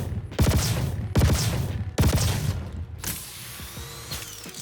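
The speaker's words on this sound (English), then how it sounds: "Alright, so now we have the burst fire modification on this particular weapon" Burst-fire weapon shots in the shooter game Vanguard: three loud, close bursts of rapid cracks spaced about a second apart, followed by a softer mechanical tail and faint game ambience, with no talking.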